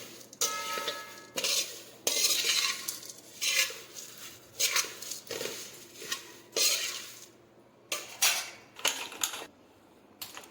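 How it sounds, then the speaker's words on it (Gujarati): Flattened rice (poha) being stirred and roasted in a large pan over a medium flame, with repeated scraping and rustling strokes of a spoon against the metal in uneven bursts, close and moderately loud with short pauses between them. "આપણે એક મોટા વાસણમાં આપણે પૌવાને શેકી લઈશું મીડિયમ ફ્લેમ ઉપર"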